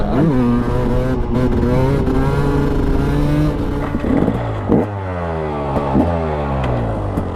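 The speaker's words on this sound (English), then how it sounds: "That's weird, using electric start for a two-stroke." A Husqvarna TE300 two-stroke dirt bike engine fired by electric start, loud and close, a fast buzzing idle that rises and falls through several quick revving blips.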